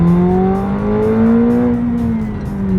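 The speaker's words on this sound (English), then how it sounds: "let's test now braking from 60 miles per hour" A 2019 McLaren 720S slows hard from 60 mph, its engine note falling steadily in a loud, close drone with a faint whine of tires, continuous throughout.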